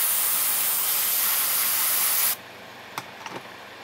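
An airbrush spraying light gray pre-shading paint onto a vinyl sofubi figure, a loud steady hiss for about two seconds that cuts off abruptly, followed by quiet with a few faint clicks.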